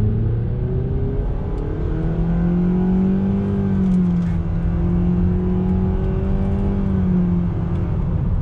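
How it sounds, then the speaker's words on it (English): A 2020 Nissan Sentra SV pulls away from a dead stop under throttle, its engine drone rising and holding in a steady, loud whir throughout with no one speaking. "acceleration from a dead stop on throttle"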